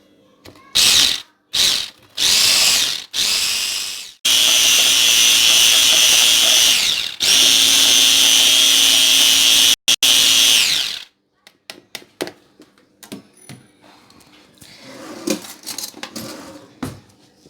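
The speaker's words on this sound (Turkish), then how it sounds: "Şimdi çırpalım." An electric mixer whips cake cream in bursts, a loud whirring drone starting and stopping several times, then one long run before it cuts off, followed by quieter scattered clinks and knocks.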